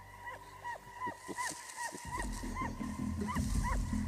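A livestock guardian dog barks in repeated, fairly rapid yelps with rising and falling pitch. The sound is moderately distant and mixes with a low rumbling background.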